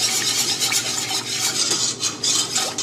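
A whisk beaten vigorously in a pan while cooking an English-style aubergine and beef moussaka sauce, a loud continuous rhythmic scraping and swishing of metal against the pan surface, with no voices.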